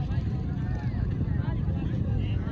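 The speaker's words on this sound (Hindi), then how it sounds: "ये ट्रैक्टर जा रहे हैं सामने" Tractors rumble past in a village after a race, a heavy low engine drone mixed with wind buffeting on the microphone, with faint voices underneath.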